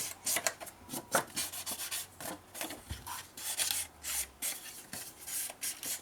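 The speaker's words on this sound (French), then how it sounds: "je mets toujours de l'encre sur la coupe du papier" Ink applied by rubbing along the cut edge of antique-style scrapbooking paper, a run of soft, close dry scuffs and rasping strokes in an irregular rhythm, quiet and alone with no voices.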